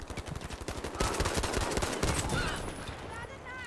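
Lewis gun fire in the online shooter Battlefield V: rapid bursts of automatic gunshots, loud and punchy, followed by a stretch of sustained firing and impacts, with game sounds layered over it.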